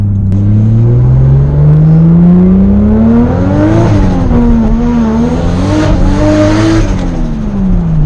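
A turbocharged Toyota Supra engine making over 500 wheel horsepower revs hard and climbs in pitch through the gears, loud and close, with a steady high whine riding over the exhaust roar.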